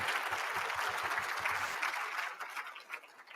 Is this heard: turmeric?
no